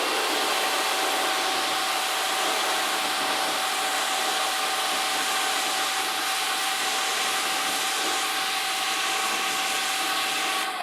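A pressure washer sprays a snow foam layer off a car, as with Gyeon Foam Q2m or Bilt Hamber Auto Wash, giving a steady, loud broadband hiss that runs unbroken throughout, with a faint tonal whine beneath it and no talk.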